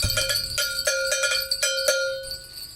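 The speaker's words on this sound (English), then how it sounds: "There's Cowbell. a cowbell." A cowbell is struck in a steady run of bright, ringing metallic hits, close and clear with no talk over it.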